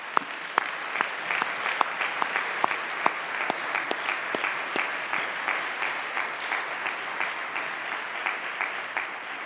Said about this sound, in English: I think you can clap for them